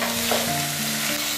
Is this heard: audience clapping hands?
no